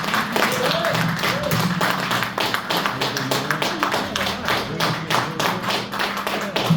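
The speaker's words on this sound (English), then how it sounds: "Let's keep that applause going." Audience at a comedy night in Basingstoke clapping and applauding, a dense patter of hand claps with thumping taps, continuous and fairly close, with a voice briefly heard over it.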